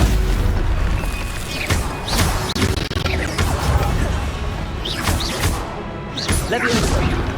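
Spells in Hogwarts Legacy go off as repeated booming impacts and crashes with whooshing bursts, loud and dense, under a voice calling out between the blasts.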